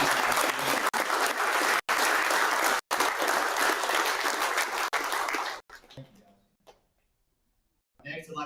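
An awards-ceremony crowd at a kayak bass fishing tournament applauds a college team, loud and sustained for about five seconds, then dies away into near silence before someone starts talking.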